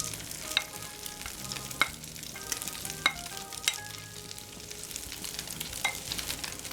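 Danish fish cakes frying in a pan over moderate heat, a steady low sizzle with a few sharp clicks and taps of a utensil against the pan scattered throughout, close by and fairly quiet, with no talking.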